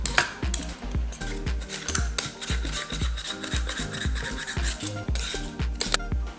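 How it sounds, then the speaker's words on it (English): A vegetable peeler scraping the skin off a butternut squash in a kitchen: quick, regular rasping strokes, close and fairly loud, repeating steadily with no voices. "I just feel like it's easier to get to the actual meat with a vegetable peeler."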